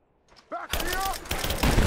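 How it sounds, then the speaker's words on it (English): Gunfire bursts from a firefight in Rise of the Tomb Raider (2015) at a railyard battle, a dense sustained volley breaking out after a brief voiced call, loud and continuous with speech mixed in. "Laying down, covering fire."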